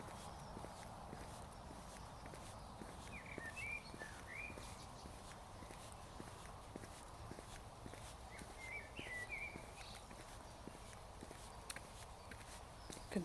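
Soft, regular footsteps crunching along a path at an easy walking pace, with faint birdsong chirping in the distance.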